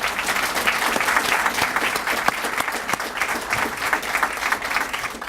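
An audience applauds steadily to welcome the panelists at an officer leadership panel, a dense, sustained wash of many hands clapping at even loudness from start to finish.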